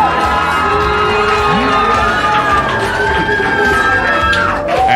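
A crowd at a Christian youth show cheers and shouts loudly and continuously, with whoops and raised voices over a dense, sustained roar.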